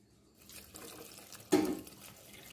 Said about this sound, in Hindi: अब इसमें हम 1/2 लीटर पानी डालेंगे।